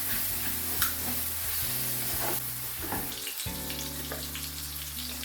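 Ground garlic and ginger paste fries in oil in a pan, giving a steady sizzle with soft stirring scrapes and a low hum underneath.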